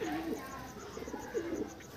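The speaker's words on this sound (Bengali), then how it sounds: "পাঞ্জাবি মালবাই পায়রা" A Punjabi Malwai pigeon coos twice in brief, low, throaty phrases at close range, faint against a quiet background.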